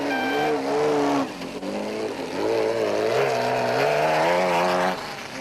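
A Castrol race car from the 1991 Thaba Nchu Sun 500 drives through dust, its engine droning loud and rising and falling in pitch as it revs along.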